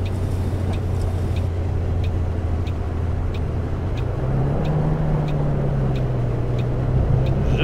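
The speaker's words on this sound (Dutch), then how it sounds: "Het geluid van de motor klinkt op zich best wel goed." Bus engine in the Fernbus Simulator driving game, a steady low drone that rises slightly in pitch partway through, with regular faint ticking above it and no talk.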